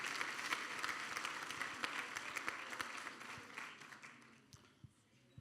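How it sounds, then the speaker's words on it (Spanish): A church congregation gives sustained applause, dense clapping that fills the room and gradually thins out as it fades toward the end. "Denle un aplauso a Cristo"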